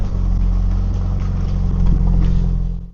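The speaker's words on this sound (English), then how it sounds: "Hear that little turbo noise?" A car engine runs nearby with a steady low rumble and a light turbo hiss on top, holding even for a few seconds before cutting off, a drift car at Ebisu Circuit in Japan.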